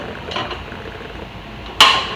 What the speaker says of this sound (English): take the snaps on the outside of the window, snap them into the inside